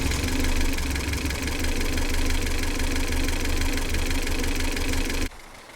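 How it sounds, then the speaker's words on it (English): Toyota Tercel engine idles steadily on Celica igniters, a constant mid-pitched running drone with slight knock, close and loud, cutting off abruptly near the end. "we're making a Toyota Tercel run off of those two igniters."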